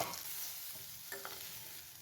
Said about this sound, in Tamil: இப்போ தேங்காய் துருவலும் சேர்த்து நல்லா வதக்கி விட்டுக்கலாம்.